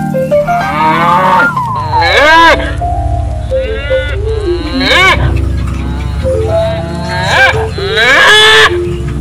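Cattle moo repeatedly, loud and close, long drawn-out lowing calls overlapping one another.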